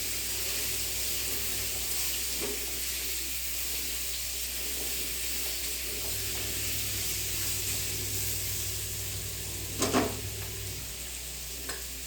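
Pumpkin pieces sautéing in oil in a pan, a continuous close sizzle with occasional stirring scrapes and a brief louder clatter near the end, no talk.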